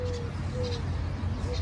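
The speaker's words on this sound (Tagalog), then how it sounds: "Maraming klase ng ibon dito, pati yung mga dove" Doves coo softly in short, low repeated calls, moderately distant, over a quiet outdoor background hum.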